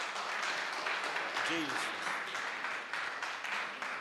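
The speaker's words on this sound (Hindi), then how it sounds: "ठोको ताली।" A church congregation claps hands steadily at a Sunday evening miracle service, a dense, even wash of applause with a brief spoken word over it.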